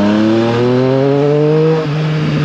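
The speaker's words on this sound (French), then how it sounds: "Ça pète un peu au niveau de l'échappement." A Triumph Street Triple 765 RS motorcycle engine runs loud and close with a strong, steady exhaust note that rises slightly in pitch, then dips briefly near the end, suggesting exhaust crackle off the throttle.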